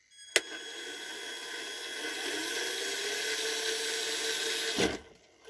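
A 540-class electric motor in an RC car whirs at a steady high pitch for several seconds, starting with a click and cutting off abruptly near the end.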